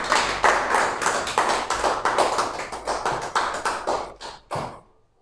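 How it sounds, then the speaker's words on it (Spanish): Close, rhythmic clapping from a church congregation, loud bursts of hands fading in strength and ending in a few final claps before silence. "Fuerte aplauso al Señor."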